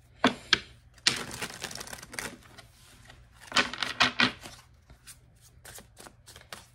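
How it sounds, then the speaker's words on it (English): Tarot cards being shuffled during a reading, heard as bursts of crisp riffling and papery slapping in irregular clusters, close and fairly quiet with brief pauses between shuffles. "one more shuffle"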